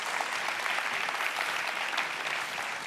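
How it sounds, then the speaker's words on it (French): Audience applause for Oussama Ammar at an event in Luxembourg, a steady wash of many hands clapping, fairly soft and even throughout with no speech on top. "vous pouvez l'applaudir encore"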